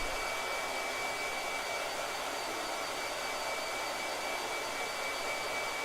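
A blow dryer runs on a watercolor painting, giving a constant, even airy whoosh with a steady whine, uninterrupted and fairly close throughout.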